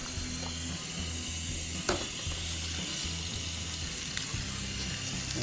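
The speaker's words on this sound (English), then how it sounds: "You can hear that nice sizzle." Pork chops sizzle in a cast iron skillet at a campground, a steady broadband frying hiss with a low mechanical hum running underneath and a couple of brief clinks, close and continuous.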